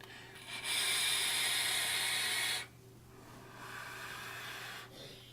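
Vaping on a Sigelei Kaos Spectrum box mod at 110 watts with a Slyder L tank, a close breathy hiss drawn for about two seconds, then a quieter second draw.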